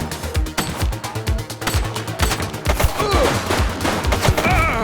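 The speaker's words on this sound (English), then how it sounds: "He's shooting!" Rapid bursts of gunfire crackle in the police video game The Precinct, repeated loud shots in irregular volleys with ringing tails over a busy game soundscape.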